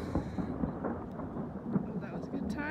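Thunder rumbling during a hike in the Canaan Mountain backcountry under a severe thunderstorm watch, a low rolling rumble that carries on steadily through the outdoor air with faint background noise.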